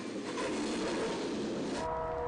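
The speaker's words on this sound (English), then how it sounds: "trains would only blow a horn that would reach 70 decibels" A train rolls through a downtown street crossing in Indiana, a steady broadband rumble of wheels and cars held at an even level, with a faint tonal hum emerging near the end and no horn blast.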